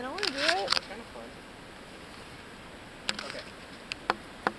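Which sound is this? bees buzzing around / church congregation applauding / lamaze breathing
bees buzzing around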